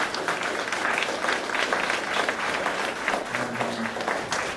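An audience gives a sustained round of applause for the speaker Graham Davis at a talk on news media and PR, with dense steady clapping throughout and a faint voice joining near the end.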